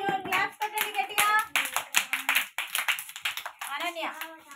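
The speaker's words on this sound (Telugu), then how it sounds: "క్లాప్స్ కొట్టండి గట్టిగా" Anganwadi children clap hands together in a loud burst of rapid, overlapping claps, with lively young voices calling out over the applause close by.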